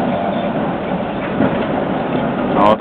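A Saint Nicholas tram pulling away on a city line, rumbling and rattling steadily at close range, with a brighter squeal or clatter near the end.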